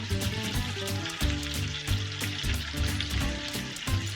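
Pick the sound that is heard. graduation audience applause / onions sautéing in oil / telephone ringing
onions sautéing in oil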